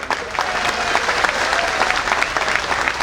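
Crowd applause at a constitution conference rally in Bijnor, a dense, steady burst of clapping from a large outdoor gathering, fairly loud and without talk.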